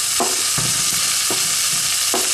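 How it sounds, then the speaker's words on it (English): Carrot and red pepper frying in an oily pan for chorizo and prawn soup, a loud, close, continuous hiss and sizzle broken by a few rhythmic stirring scrapes. "I'm going to fry these now until these start to soften"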